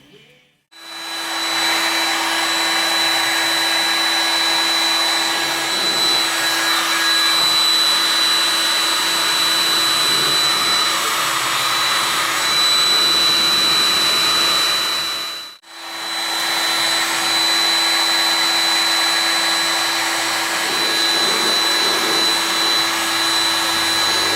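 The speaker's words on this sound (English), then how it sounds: "I think I'm going to get my heat gun and try to get the sticker off with it." A heat gun roars steadily while softening a sticker on a Cub Cadet 102 tractor hood. The loud, constant blowing whoosh cuts out briefly partway through, then starts again, close up and alone.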